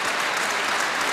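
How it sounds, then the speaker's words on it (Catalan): Spectators applaud at a pilota match in Sueca, a dense, steady burst of clapping from a crowd, fairly loud and continuous. "Ahí estan els aplaudiments, per a uns i per a altres"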